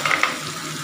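Eggplant pieces frying in a pan of hot oil for a Bengali tangra fish curry with potato, a steady close sizzle with brief stirring scrapes at the start, no voices.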